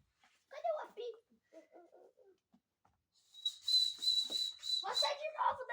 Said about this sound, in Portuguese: Cadê o apito?